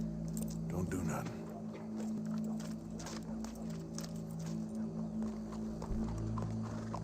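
Horse hooves clip-clop at a steady walking pace in the video game Red Dead Redemption 2, soft and fairly close, beneath constant game ambience, background music and occasional voices.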